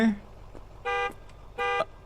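Car alarm in the horror game Tempus Triad, two steady blaring electronic bursts of under a second each with a short gap between, sounding alone and loud.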